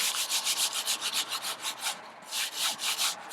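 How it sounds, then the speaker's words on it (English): A wet wipe rubbing chalk marker ink off a chalkboard vinyl Christmas label, a steady run of quick back-and-forth scrubbing strokes, close and fairly loud, with a brief pause near the middle and no talk. "I will just rub it with a wet wipe and then dry it off"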